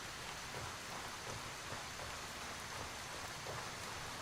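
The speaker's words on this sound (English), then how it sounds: "Now, because it's raining," Steady rainfall in the Gray Zone Warfare video game, a soft, even hiss of drops with no breaks, heard quietly and alone in the background.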